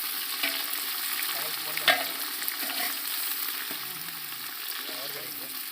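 Onions and tomato fry in a pan for a village country-chicken fry, giving a steady loud sizzle with occasional stirring scrapes, close up.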